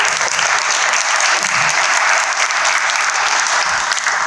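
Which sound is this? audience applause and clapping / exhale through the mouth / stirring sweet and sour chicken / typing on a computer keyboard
audience applause and clapping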